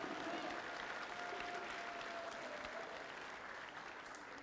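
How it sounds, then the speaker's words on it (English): Steady applause from a school crowd gathered for a live-streamed event, a dense wash of many hands clapping at even loudness throughout, with faint voices and a thin tone mixed underneath. "Give yourselves one more round of applause"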